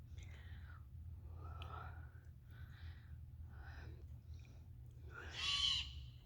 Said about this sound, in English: There's a screech owl.